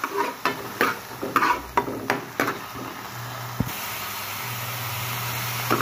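Mixed vegetables stir-fried over high fire, a utensil scraping and tossing them in a pan in quick, irregular strokes over a steady loud sizzle that carries on alone toward the end.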